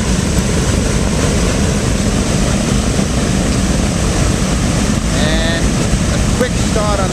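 A Wright R-3350 radial engine starts on a four-engine aircraft, joining the others in a dense, steady propeller roar that fills the whole span, with brief whining tones rising near the end.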